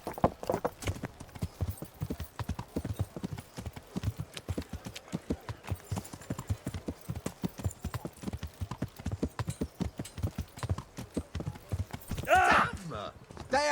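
A horse's hooves gallop in the medieval video game Kingdom Come Deliverance, a fast, steady clip-clop rhythm close by that runs throughout, with a brief whinny and a voice near the end.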